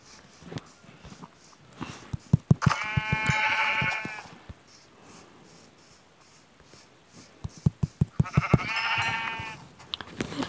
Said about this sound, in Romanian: Bă, câte oi!